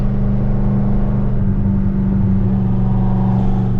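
A Chevrolet Camaro ZL1 engine drones loud and steady at high revs from close inside the car, a continuous deep rumble with no break or pause.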